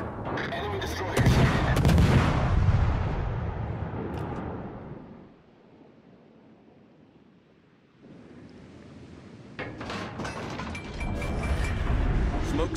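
Naval guns of a Fubuki destroyer in World of Warships: Legends fire at a target over sea, loud booming blasts with ocean and wind rumble, dropping to a quiet lull mid-way before renewed heavy firing.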